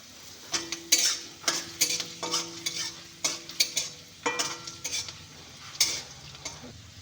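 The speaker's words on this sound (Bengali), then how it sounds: "রসুন কুচিটা দিয়ে দিচ্ছি।" Chopped garlic fries in a pan for fried rice with a light sizzle under frequent quick clattering stirs and utensil scrapes against the pan, heard up close with no voices.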